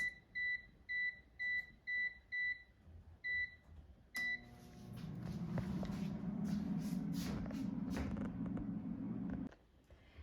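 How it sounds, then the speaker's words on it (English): A string of short electronic beeps from an air fryer set to 390°F for 6 minutes while cooking Totino's snack bites, followed by a steady, moderately loud fan whir that runs for several seconds and then shuts off. "Now the air fryer is done cooking, so let's take a look."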